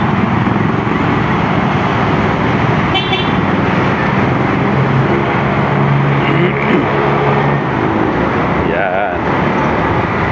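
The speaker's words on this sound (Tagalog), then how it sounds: "Moderate heavy traffic na yung ano natin, kalsada going to Aurora, Cubao." Heavy road traffic on the way to Aurora, Cubao, with a steady loud rumble of engines and passing vehicles, a short horn toot around the middle and a few more brief honks later.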